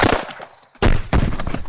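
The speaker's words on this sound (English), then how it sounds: "Were those gunshots?" Several loud gunshots crack close by in quick bursts, with a short silent gap between them, as a sound effect of an elephant being shot in a podcast.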